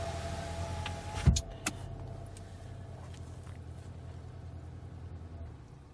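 A 2013–2016 Ford Escape with a 1.6L/2.0L EcoBoost engine idles, giving a steady low hum with a couple of sharp clicks early on, then settling into a quiet, even drone.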